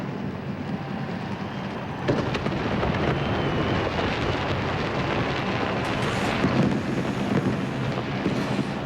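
Fireworks bursting over London at the millennium midnight celebration, a dense continuous rumble of distant explosions and crackle that stays loud and steady throughout, with no clear separate bangs.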